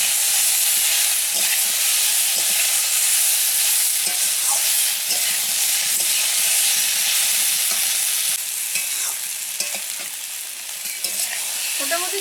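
Elephant apple (chalta) pieces, boiled and salted, frying in oil over low heat while being stirred for a village-style pickle, a dense, steady sizzle with occasional scraping of the utensil, close and loud throughout with no talking.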